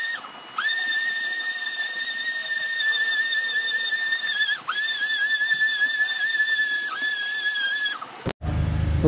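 A power sander working a large pine wood tabletop, a loud steady high-pitched whine with hiss that runs continuously for about eight seconds, dips briefly a couple of times, then cuts off abruptly.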